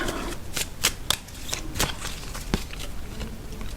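An oracle card deck is shuffled by hand in quick riffling bursts with crisp snaps, close and continuous, with no speech.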